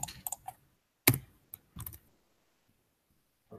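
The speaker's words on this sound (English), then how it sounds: "I'm typing." Sparse computer keyboard typing heard close up: a few quick clicks, a louder clack, then a short cluster of keystrokes separated by silent pauses.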